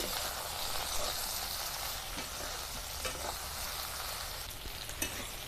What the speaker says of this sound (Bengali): একটুখানি ভেজে নেব যাতে ভেন্ডিটা ভালো মতন সেদ্ধ হয়ে যায়